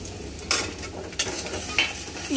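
Chopped onion sizzles in a hot pan of oil while a utensil scrapes and stirs it in a few brisk strokes, a steady frying hiss under sharp metallic clinks.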